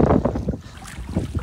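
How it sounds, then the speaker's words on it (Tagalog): A strong, cold winter wind sweeps across open sea around a small fishing boat, roaring in buffeting gusts against the microphone, loud and close. "At napakalakas ng hangin ngayon."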